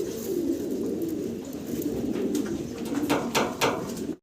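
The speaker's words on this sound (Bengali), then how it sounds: "খুব চমৎকার এক জোড়া হোয়াইট গোল্ড আর্চেঞ্জেল কবুতর আপনারা দেখতে পারতেছেন" A pair of White Gold Archangel pigeons at a farm coo in a low, soft, rolling rhythm, close and continuous, with a few faint clicks near the end.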